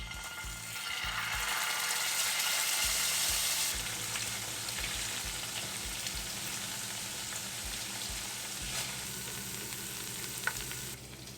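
Ginger garlic paste hits hot oil with cumin seeds and a bay leaf, bursting into a loud, steady close sizzle that settles slightly, with occasional utensil clicks and no talk.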